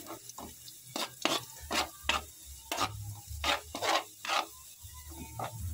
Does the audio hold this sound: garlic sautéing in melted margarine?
yes